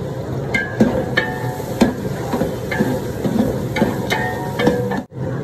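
Green chillies and onions sauté in oil in a large pot for a hotel-style chicken salna, a steady close sizzle broken by frequent scraping stirs and clinks of a metal ladle, with no one talking.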